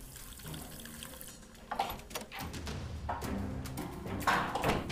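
Water runs from an open tap into a sink indoors, a steady splashing flow with a few thumps and clatters mixed in, close and moderately loud.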